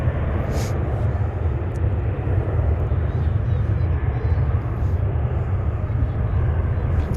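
A jet airliner roars loud and steady at DFW International Airport, with a broad, constant engine rumble filling the air throughout.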